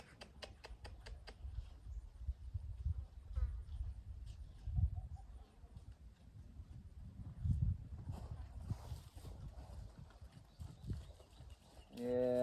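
Horses walk over when called, their hooves clopping softly and irregularly on the ground, fairly faint, while a woman calls to them and talks.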